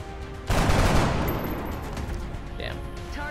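A burst of gunfire from a shot taken in the turn-based video game XCOM: Enemy Within, with a sudden loud blast that decays into a rumbling tail and faint electronic game sounds afterward.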